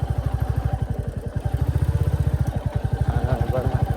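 A Royal Enfield Bullet 350 Battalion Black motorcycle ridden off road in the hills, its single-cylinder engine thumping in a steady, close, fast rhythm.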